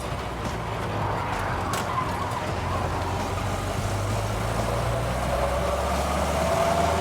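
A Jeep Willys with straight-cut gears drives along, its engine a steady low drone with a faint gear whine rising toward the end, continuous and fairly close with no talk.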